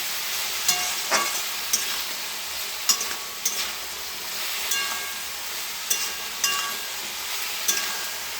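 Curry being stir-fried in a pan after turmeric goes in, with mustard paste to follow, giving a steady close sizzle and a few sharp scraping clicks of the spatula against the pan.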